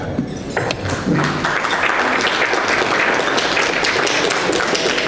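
A dense, loud round of audience applause fills a memorial gathering honoring Rav Walkin, with continuous close clapping throughout and a few faint voices beneath.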